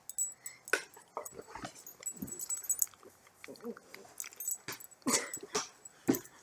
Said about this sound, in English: Wrestling with a very, very, very big dog who wants love.